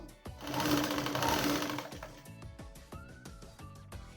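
A sewing machine stitches a fabric strap for a reversible shopping bag, running in a steady loud burst and then breaking into short start-stop stitching runs with small clicks between them.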